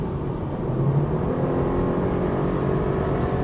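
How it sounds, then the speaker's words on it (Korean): A BMW 420i convertible's engine drones steadily and loudly during kick-down acceleration, the revs holding high and strained throughout. "지금은 킥다운으로 가속을 해볼게요."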